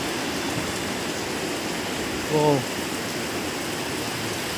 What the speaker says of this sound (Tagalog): grabe na naman ang ulan.